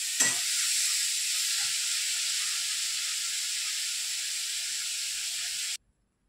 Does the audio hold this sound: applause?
no